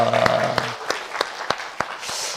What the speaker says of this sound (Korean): 우리 박수로 한번 영광 돌리고 감사하겠습니다